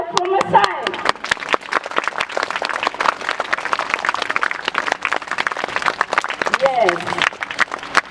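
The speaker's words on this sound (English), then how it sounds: "So again, a big clap from my side." A school crowd at an Independence Day celebration claps steadily, many hands applauding in dense, continuous rhythm, with a voice briefly audible at the start and end.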